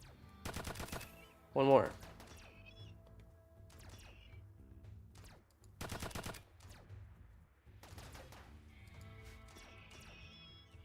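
Gunfire from the video game RimWorld in short automatic bursts, two loud volleys several seconds apart with a single sharp shot between, while someone talks quietly.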